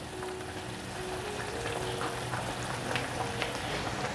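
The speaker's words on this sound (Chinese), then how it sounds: "已经大滚了" Meatball soup at a full rolling boil on the stove, a steady bubbling and hissing simmer heard close and continuous with no voices.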